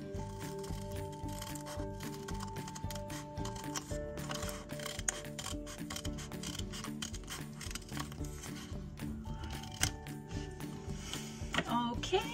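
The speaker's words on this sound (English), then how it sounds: "cut that out" Scissors snip and rustle through folded paper while cutting a snowflake, with irregular close crunching cuts and paper rubbing over a faint background tone.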